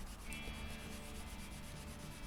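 Sandpaper of 120 grit rubs over the finish of a Gibson Midtown guitar, a steady, continuous scratchy hiss with faint rhythmic strokes, close and quiet, with no voices.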